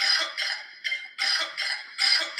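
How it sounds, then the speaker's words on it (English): A man coughs repeatedly in a TikTok song clip, about five bursts of rough, harsh coughing in a steady rhythm, close and fairly loud with brief gaps between them. "that's just some guy coughing"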